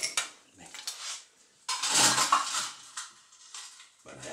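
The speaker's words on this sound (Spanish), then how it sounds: "Venga, vamos a echarle hielo picado." Crushed ice tumbling into a tall glass while making party cocktails, a few short clattering, rattling bursts with one longer pour in the middle, close and fairly quiet.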